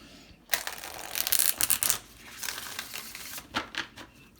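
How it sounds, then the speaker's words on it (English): A deck of cards shuffled during a tarot-style card reading, giving a sharp riffling burst of papery flicks that fades, then a shorter second round of crisp card snaps, close and clear with no talk. "We're going to shuffle one more time."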